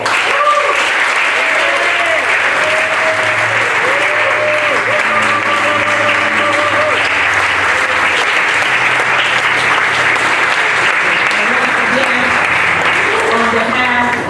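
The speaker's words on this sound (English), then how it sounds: "I think they deserve a round of applause" Sustained round of applause from a symposium audience, dense and steady for the whole stretch with a constant loud clatter of hands, voices and a low hum mixed beneath.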